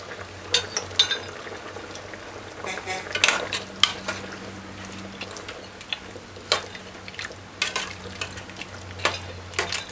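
Jamaican curry goat cooking in a pot on a stove, with soft steady simmering under a low hum and scattered metallic clinks of a spoon or lid against the pot.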